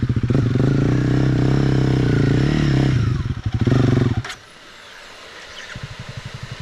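Honda CRF 250/300 dirt bike engines run loud and close on a trail ride, with a steady rumbling idle and a few revs. One engine cuts out abruptly, leaving a quieter idle puttering in the background.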